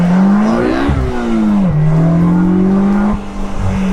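A loud, close Polaris Slingshot three-wheeled roadster engine revs up repeatedly, its pitch climbing then dropping sharply at each of three gear shifts.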